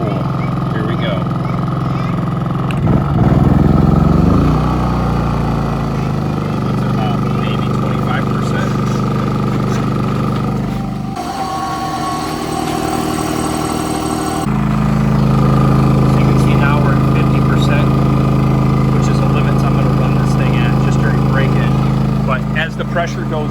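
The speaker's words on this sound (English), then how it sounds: "Turn the air compressor on." An air compressor running on a Champion 4500-watt inverter generator during break-in, a steady mid-pitched engine hum with a mechanical drone that rises in load partway through, with people talking over it.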